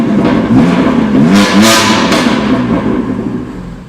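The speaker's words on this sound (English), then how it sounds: "But an amazing sounding exhaust." A 2017 BMW M3's engine revs hard and close, its titanium exhaust roaring and rasping through several rising pulls before easing off.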